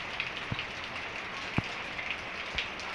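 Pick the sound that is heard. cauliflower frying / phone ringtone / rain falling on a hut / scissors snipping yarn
rain falling on a hut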